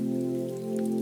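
Steady rain falls outside a cozy pie shop on a wet night street, a soft continuous patter and hiss carried over a low, constant warm hum, with no voices.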